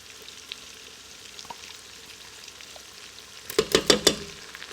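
Diced onion and minced garlic frying in melted butter and olive oil: a quiet, steady sizzle, then a cluster of louder crackling pops and stirring sounds near the end, close up.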